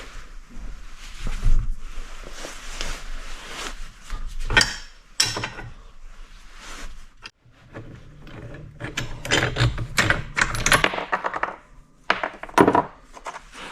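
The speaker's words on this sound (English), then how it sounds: "I'm going to be using the socket and the ready rod to push them both through" Swingarm bushings on a 1983 Yamaha IT 175 being forced out with a socket and threaded rod: repeated metallic clicks, scrapes and knocks from close up, with louder clanks as the bushing shifts, and no talking.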